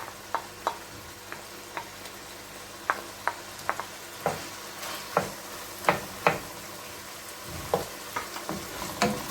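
Onions sautéing in sunflower oil in a pan, a soft steady sizzle broken by a series of crisp clicks and knocks from stirring, close by with no voices.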